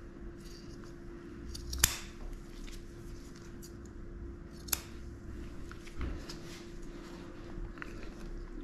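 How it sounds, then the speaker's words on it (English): Scissors snip at a dog's fur during grooming, faint scattered cuts with a couple of sharper clicks over a steady low hum and quiet room noise. "So I'm just going to take as much as I can off with scissors."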